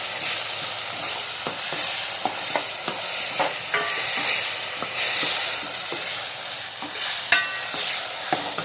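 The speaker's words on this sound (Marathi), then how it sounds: "आता टाकूया हिरवी मिरची आल्या लसूण पेस्ट" Green chili and ginger-garlic paste stir-frying in a pan, a continuous sizzle broken by repeated scrapes and taps of a spoon against the pan, close and fairly loud.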